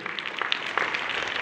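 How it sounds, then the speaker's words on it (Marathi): A school audience applauds to congratulate a fifth-grade student receiving a certificate and award, a steady patter of many hands clapping at a moderate distance throughout. "जोरदार टाळ्या वाजवून त्याचं अभिनंदन करायचं आहे।"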